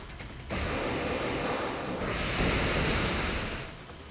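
Waterfall attack in the video game Pokémon X during a battle against Talonflame, a rushing, surf-like burst of water that swells suddenly, surges again midway, then slowly fades.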